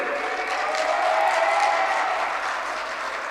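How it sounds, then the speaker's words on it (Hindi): Applause at a students' congregation valedictory session, a steady crowd clapping for quiz winners that holds evenly loud throughout, dense and continuous without any talk over it. "जोरदार तालियां बजाएंगे क्विज के विनर्स के लिए"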